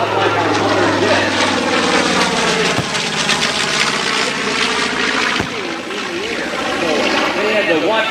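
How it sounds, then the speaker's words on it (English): A propeller-engine aircraft flies at an airshow with a steady, loud engine drone throughout, while a voice talks over it. "these propeller engine aircraft are not like our modern jets"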